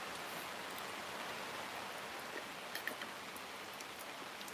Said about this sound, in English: we are getting heavy rain right now.